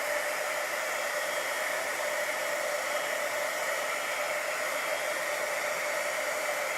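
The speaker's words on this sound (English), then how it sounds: "I'm just going to turn on my heat tool and just quickly dry" A craft heat tool blows hot air steadily to dry glossy card, a constant loud whooshing hiss with a fan whine, unchanging and close, no voices.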